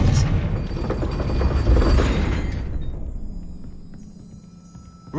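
An Expelliarmus spell is cast in the Hogwarts Legacy video game, erupting as a loud, booming magical burst that rumbles and slowly fades away over several seconds.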